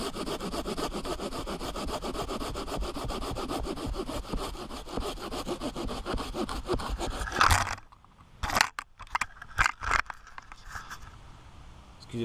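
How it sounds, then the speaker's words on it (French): A folding saw cuts steadily through wood in fast back-and-forth strokes, close and loud, then stops abruptly, followed by a few scattered knocks and rustles. "Elle scie en avant et en arrière."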